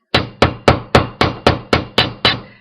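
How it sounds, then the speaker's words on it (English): Eight sharp metallic hammer strikes on jewelry wire for clasps and jump rings, at a steady, even pace, each ringing briefly before the next, close and loud with no voices. "I give these a bit of a hammer."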